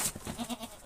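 Goats bleating at a farm pen during feeding from buckets, a few short bleats close by with a faint shuffling background and no talk.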